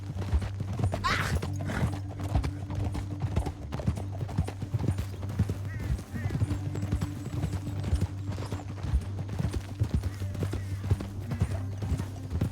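Horse hooves gallop in Red Dead Redemption 2, a dense, fast clip-clop drumming that runs steadily for over twelve seconds, close and continuous, over a low droning backdrop.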